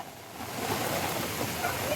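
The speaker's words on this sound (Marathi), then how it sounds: "अचानक पाऊस चालू आला आहे" Sudden rain falling outdoors near a temple on the Ratnagiri coast makes a steady, dense hiss that holds evenly throughout.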